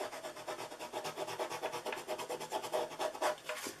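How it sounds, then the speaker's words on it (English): A bone folder is rubbed along a scored crease in paper for a gift box, giving quick rhythmic scraping strokes, soft and close. "I need to get my bone folder out and fix that."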